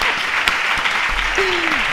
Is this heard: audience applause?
yes